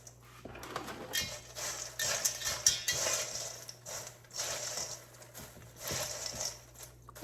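Popped popcorn being loosely tossed and mixed in a bowl, giving irregular rustling and light clattering bursts that come and go at a moderate, fairly quiet level.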